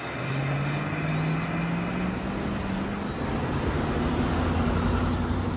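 A car drives along a road in a steady, loud rumble, its engine tone holding and slowly rising under constant road noise, with no voices.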